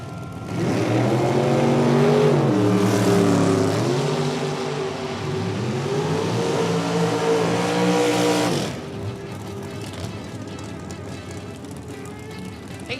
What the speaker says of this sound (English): Doing it in a door car. 81 Camaro weapon of choice here.